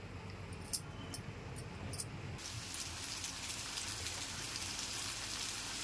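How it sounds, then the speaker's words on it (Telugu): Kandi nooka (toor dal grit) patties sizzle steadily in oil on a flat pan over medium flame, with a few sharp pops and clinks early on before a continuous hiss settles in. "ఇవన్నీ పెనం మీద పెట్టుకొని ఫ్రై చేసుకుందాం"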